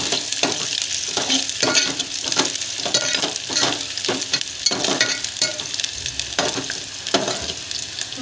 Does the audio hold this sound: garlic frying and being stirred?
yes